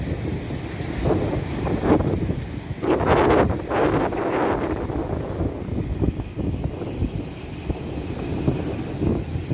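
Large ocean waves surge at J-Bay, South Africa, a broad roaring wash under steady gusting wind noise on the microphone, with a louder swell of crashing water in the middle.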